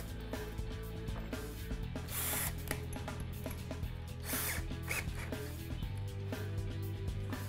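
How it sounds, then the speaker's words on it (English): A power drill with a 5/16 bit whirs with a steady motor hum, drilling mounting holes for stainless steel nerf bars on an E-Z-Go RXV golf cart, its pitch shifting slightly as it grinds through, with a few mechanical clicks. "we're ready to drill them out with our 5/16 drill bit"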